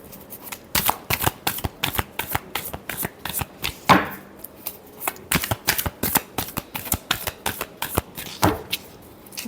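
Tarot cards being shuffled up close, a steady run of crisp riffling flutters and soft slaps, repeated in quick bursts with brief gaps and no voice.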